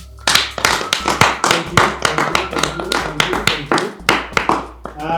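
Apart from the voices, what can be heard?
hands clapping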